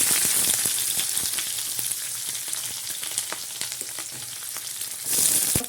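Onions fry in hot oil in a pan, a loud, steady sizzle up close with soft scraping strokes and a brief surge near the end.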